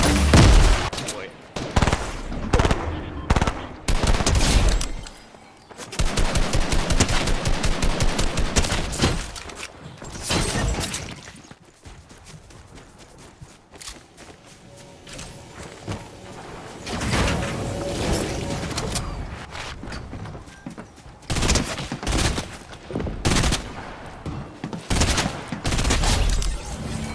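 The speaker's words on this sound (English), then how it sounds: "I'm literally like hip firing the burst rifle on people and it's working pretty good" A burst rifle fired from the hip in a Fortnite Team Rumble match: loud, rapid gunfire comes in dense clusters and sustained volleys, with quieter gaps between them and players' voices talking through the action.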